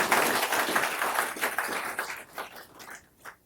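Audience at a police chief's swearing-in ceremony clapping, a fairly faint burst of many hands applauding that thins out toward the end.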